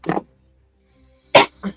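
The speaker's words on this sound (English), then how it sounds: "Coughing." A few short, sharp coughs close by: one burst, a long pause, then two quick coughs in a row.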